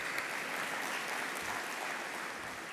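An audience at an annual meeting claps together in sustained, even applause, moderately loud and steady throughout, with no talk over it.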